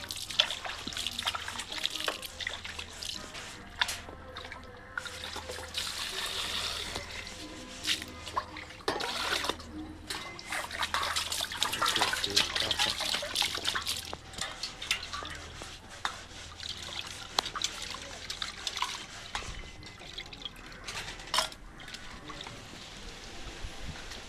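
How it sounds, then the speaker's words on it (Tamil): Cleaned sardines being rinsed with water in a lead pot: soft trickling, dribbling and sloshing water with scattered clinks and splashes, close and fairly quiet, going on continuously. "மூணாவது அலசு நல்லா அலசணும்."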